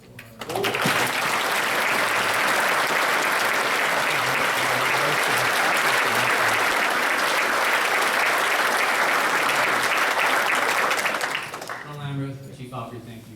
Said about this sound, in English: So please a round of applause for